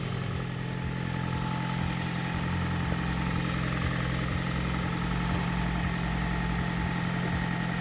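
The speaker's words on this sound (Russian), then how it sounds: "завели двигатель, все работает" A Toyota Esquire engine idles steadily just after being started during pre-winter servicing, a smooth, even low rumble that holds constant throughout with no voices.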